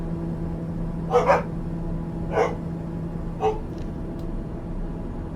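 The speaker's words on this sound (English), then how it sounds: "So the barking continues," A dog barks in several short bursts, a double bark followed by two single barks spaced about a second apart, fairly distant over a steady low hum. A doorbell may have prompted it.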